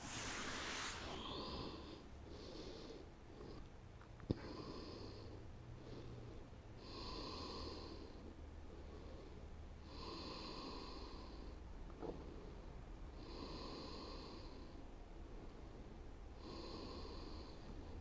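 Slow breathing during a hip-opening yoga session, heard as faint, soft breaths repeating in a steady rhythm every few seconds over a quiet room hiss.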